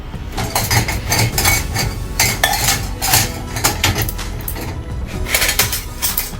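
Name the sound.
cups and glasses being loaded into a dishwasher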